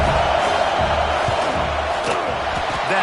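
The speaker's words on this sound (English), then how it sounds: "how nice is it to have the home crowd going absolutely bananas?" A home stadium crowd at a Clemson vs South Carolina college football game roars loudly and continuously, a dense wall of cheering with scattered shouts and whoops.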